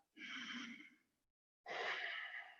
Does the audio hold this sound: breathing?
yes